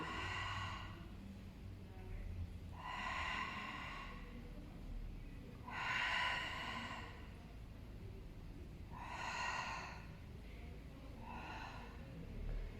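Deep, slow breaths taken during a floor exercise on a narrow beam, several distinct breathy bursts spaced a few seconds apart, each a soft rushing exhale heard close and fairly quiet.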